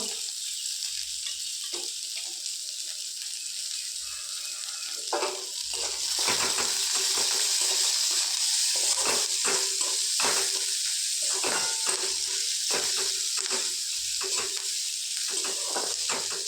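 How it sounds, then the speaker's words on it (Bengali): Onion, ginger, garlic and green chili fry in a little oil in a pan, a quiet hiss that swells into a louder sizzle partway through, with frequent clattering strokes of a spatula stirring against the metal. "এর মধ্যে পেঁয়াজ, আদা, রসুন এবং কাঁচা লঙ্কাটা দিয়ে দেব। সবগুলো কিছুক্ষণ ভেজে নেব।"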